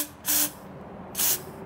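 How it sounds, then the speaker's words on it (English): Two short bursts of aerosol spray forced into a blocked float chamber line on a Triumph Daytona 1200 motorcycle carburettor, each a sharp close hiss lasting about a quarter second with quiet in between. "I'll attach a little aerosol."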